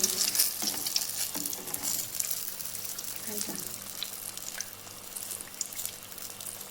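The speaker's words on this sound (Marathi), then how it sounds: "भजी बनवायला लागलेली आहे मी" Bhaji fritters fry in hot oil with a bright steady sizzle and occasional crackles, close and continuous, fading slightly toward the end.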